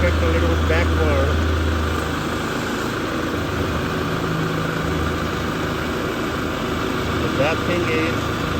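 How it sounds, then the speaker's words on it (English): Kubota tractor with a front quick-attach loader backing up slowly, its diesel engine idling as a steady low rumble with a faint mechanical whine, near and continuous throughout. "let me take the tractor a little bit backward"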